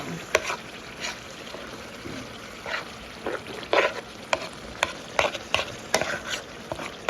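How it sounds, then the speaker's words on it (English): Taco-seasoned ground meat for nachos is stirred in a pan, with a steady low sizzle broken by irregular scrapes and clacks of the spoon against the pan. It is close and moderately loud, with no talking. "then I'm gonna give it a little mix"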